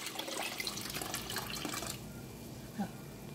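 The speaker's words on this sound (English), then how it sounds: "To that, we're going to add some water." Water poured into a pot of chicken stock for homemade chicken and noodles: a steady close splashing stream for about two seconds, then it stops, leaving faint kitchen sounds and a small drip.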